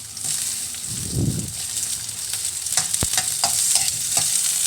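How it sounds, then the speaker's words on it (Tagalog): Food fries in a pan as it is stirred to keep it from burning, making a continuous close sizzle broken by scraping stirs and a few sharp clacks of a utensil against the pan. "Halo-haloin lang para hindi masunog."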